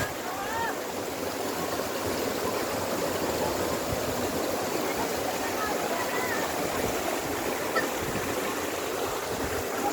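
Waterfall at Bambi Falls in Negros Occidental, Philippines, a steady broadband rush of falling water filling the scene continuously with no break.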